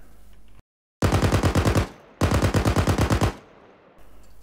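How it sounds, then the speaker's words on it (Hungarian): Two rapid bursts of automatic gunfire from a weapon in a game mod, each a loud rattling string of about a dozen shots, separated by a short pause and preceded by a brief silence. "Majd az így bekészített lőszerrel már tudunk tüzelni."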